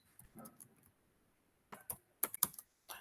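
Keys tapped on a computer keyboard in uneven clusters, with quiet soft presses, then sharper, louder clicks after a short silence, close by with no voices.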